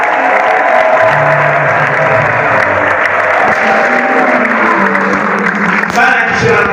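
A church congregation applauds loudly and continuously, the clapping mixed with cheering and voices rising over a sustained musical backdrop.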